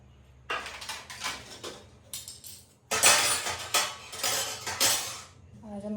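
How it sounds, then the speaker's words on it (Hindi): Cooking pots, dishes and utensils are carried indoors and handled at home. They clatter and clink in repeated bursts, getting louder and busier partway through, with no voices. "बर्तन अंदर लेके चलते हैं"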